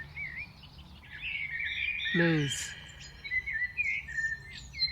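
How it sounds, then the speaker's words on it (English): Birds sing and chirp in a New Jersey park in the evening, with a clear whistled call in the middle over fainter chirps and insect buzz, while someone talks briefly. "See, birds, they are making sweet sound as if they are singing in harmony."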